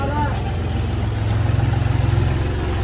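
A tractor engine running steadily nearby, a low throbbing idle with a pulsing rhythm that stays loud throughout the clip.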